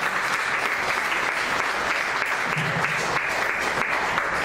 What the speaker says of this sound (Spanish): Denle ofrenda de palmas a Él